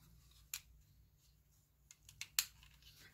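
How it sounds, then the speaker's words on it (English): A tape runner lays adhesive onto small sachets, giving a few sharp, brief clicks and rasps spaced irregularly over quiet background, close and fairly faint. "And I just use my tape runner."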